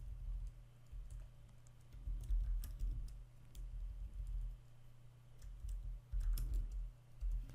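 Typing on a computer keyboard while entering a Linux command line instruction to start a MongoDB service on Ubuntu 22.04, a quick run of close, crisp key clicks in uneven bursts over a low steady hum, with no talking.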